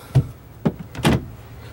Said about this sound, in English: The cabin door does lock.